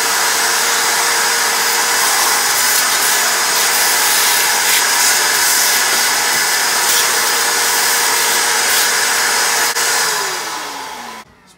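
Walmart 3 hp, 3 gallon shop vac running loud and steady nearby with a constant whine, then spinning down as it is switched off near the end.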